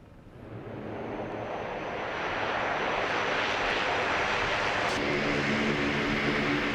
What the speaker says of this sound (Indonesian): Presiden Amerika Serikat Donald Trump membagikan video pesawat bomber Amerika Serikat mendarat di Timur Tengah